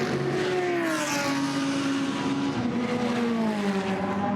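Racing cars roar at close range on the Misano circuit during a Blancpain GT Sports Club race as a Porsche draws alongside the number 3 Ferrari and passes it, the engine notes rising and falling steadily.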